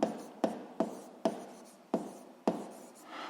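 A physics law being written by hand, a quick series of six pen taps on paper with short scratchy strokes after each, close and soft, with no voice.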